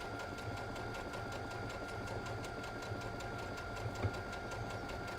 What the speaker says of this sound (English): I'm being quiet here because I don't want to interrupt Kate's quiet sewing. or slow sewing